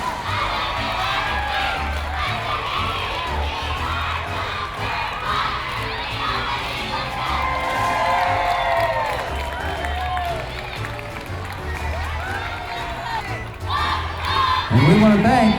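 Crowd cheering and shouting, with children's voices prominent, greets youth sports athletes performing at an outdoor Veterans Day parade; a steady, loud wash of voices carries throughout and swells near the end.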